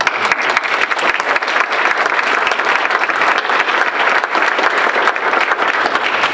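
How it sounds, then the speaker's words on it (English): Steady applause from a library and public humanities audience at a talk fills the room, loud and dense with no break for the whole stretch. "let's all clap for you"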